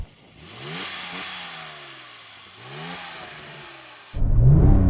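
A Porsche 911 Turbo of the 996 generation revs twice with rising engine sweeps hitting a soft limiter, loud and close, before a sudden burst of louder broadband noise at the end.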